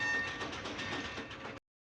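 A train rolling through a scene of the John Ford western The Man Who Shot Liberty Valance gives a dense, steady rumbling rush with faint rhythmic pulses, loud throughout and cutting off abruptly, with no one speaking.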